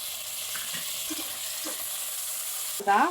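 Chopped onions fry in a pan for soya biryani, giving a soft steady sizzle with a few light stirring scrapes; near the end a louder tonal clatter cuts in briefly.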